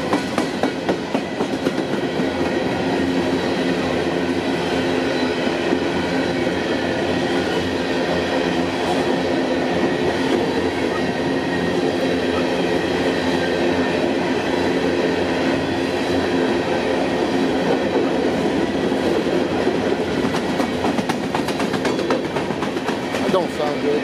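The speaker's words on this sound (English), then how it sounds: "Don't sound good. Flat wheel." Empty coal train wagon with a flat wheel rolling past, hauled by a pair of AC44C6M locomotives; a continuous loud rumble with clickety-clack and a repeating rhythmic thump throughout.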